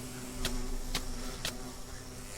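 Bees in Minecraft Java Edition give off a steady low buzzing drone with three short, evenly spaced clicks over it, heard at a soft, even level.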